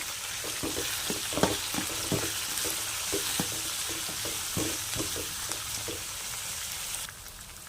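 Ginger, curry leaves and coriander are stirred together in a hot pan for chutney, giving a continuous sizzle of frying with repeated scraping and tapping of a spoon against the pan, fairly close and without talk.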